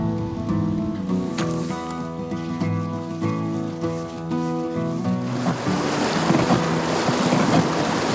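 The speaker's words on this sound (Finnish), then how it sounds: "No niin, tässä ollaan sitten keskellä koskea kiven päällä." Rapids on the Ivalo river in Lapland, heard from a rock mid-current, swell into a loud, steady rush over the last few seconds after a droning tonal sound.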